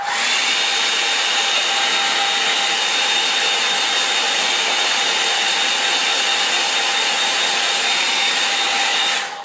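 A hair dryer blows on a painting, a loud, steady whirring rush that holds evenly throughout and then cuts off at the end.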